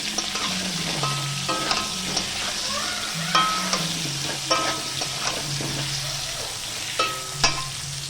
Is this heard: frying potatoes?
yes